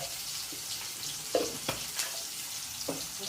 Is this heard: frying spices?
yes